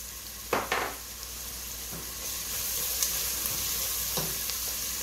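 Ground meat sizzles steadily in a hot pan, with a few sharp clatters of a utensil stirring and scraping early on and again near the end, the frying hiss rising and holding steady.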